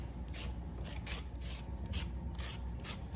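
A knife blade shaves the skin from a carrot in quick, repeated rasping strokes, each scrape close and crisp over a faint background, with no talking.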